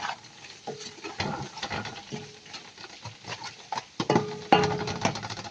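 A spoon stirring chicken pieces coated in chili, mixed spice, cumin and coriander powder in a pan, with repeated scraping and clattering strokes and light sizzling, close and irregular.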